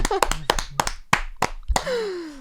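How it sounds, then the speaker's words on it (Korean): Several sharp hand claps ring out in an uneven burst in a radio studio, mixed with brief voices and laughter. "우리 박수 한번 치고 한번 시작할까요?"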